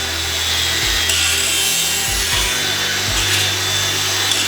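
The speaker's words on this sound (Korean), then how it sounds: "제작된 빔은 연마 작업을 진행해주고" Steady abrasive grinding of a steel beam runs throughout, with periodic deeper thumps as the tool shifts against the surface.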